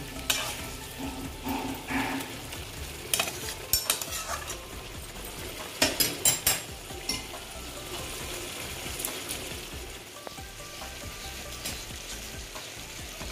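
Spiced egg curry masala sautés in a pan, a constant close sizzle broken by bursts of spatula scraping and clinks against the metal.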